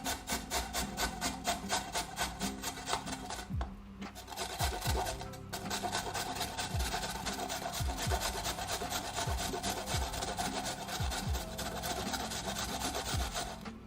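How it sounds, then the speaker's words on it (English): Vegetables grated by hand on a grater in a home kitchen make a steady, rhythmic rasping scrape. The strokes are close and continuous, with one brief break partway through. "now I'm just going to grate"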